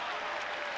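A basketball crowd roars in Pauley Pavilion during a 1979 USC at UCLA game, a brief, dense wall of cheering with a voice faintly over it.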